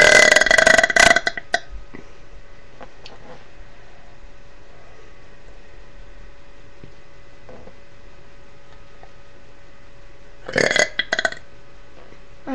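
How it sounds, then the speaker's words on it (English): A woman lets out two bursts of loud, close burping. The first is a long belch at the start, then a quiet pause of several seconds, then another short burp near the end. "I'm going to be doing some more burps for you"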